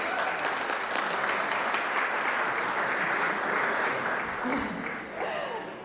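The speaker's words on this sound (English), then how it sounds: "Round of applause." A crowd at a fundraising tea event claps steadily in sustained applause, dense and even, tapering off slightly near the end.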